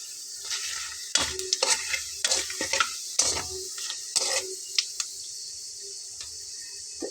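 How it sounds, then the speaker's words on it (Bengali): Cumin and black cumin seeds dropped into hot oil give a soft steady hiss, punctuated by a series of sharp crackling bursts and spatters up close. "এই তেলের ভিতরে আমি এখানে দিয়ে নিচ্ছি সামান্য জিরা এবং কালো জিরা।"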